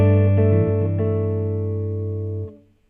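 A sustained guitar chord rings out with notes shifting and wavering slightly inside it, then fades out near the end.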